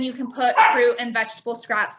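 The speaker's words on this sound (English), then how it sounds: "Again, sorry for my dog." A dog barks close by in a few short yips under a person talking.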